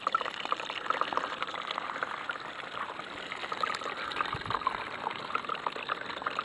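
Water rushes and trickles over material washing through a small gold cleanup sluice, a quiet, steady splashing flow with faint bubbly detail that continues evenly throughout, with no talking.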